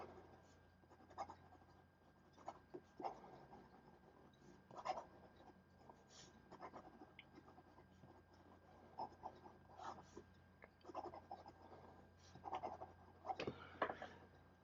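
A Montblanc 149 fountain pen scratching quickly across paper, faint close rasping strokes in uneven bursts with brief pauses, heard alone in a quiet room.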